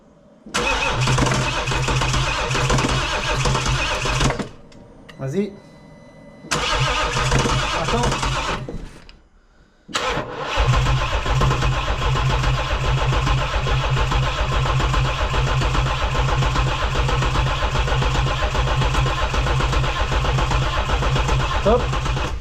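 A BMW 330d with the N57 diesel engine is cranked twice with pauses between attempts, then fires and settles into a loud, steady diesel idle close by, with brief voices over it.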